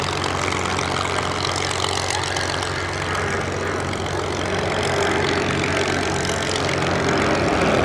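Piston propeller engines of a Boeing B-17G bomber droning at a summer airshow at Duxford, a steady loud rumbling roar with no pause across the stretch.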